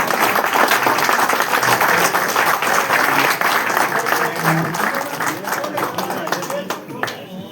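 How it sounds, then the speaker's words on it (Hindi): Audience applause at an evening yoga talk in a hall, a dense sustained wash of many hands clapping that stays loud throughout and thins slightly toward the end. "जोरदार सबके लिए ताली हो जाए।"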